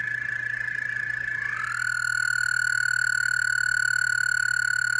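Loud, sustained frog croaking, a steady buzzing trill that shifts pitch once early on and then holds constant and close.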